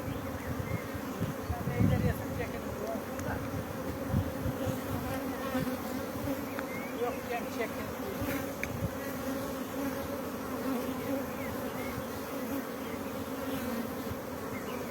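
A swarm of bees drawn to the scent of lemons buzzes in a continuous, fluctuating hum close by, with individual insects passing near and a few faint low murmurs beneath.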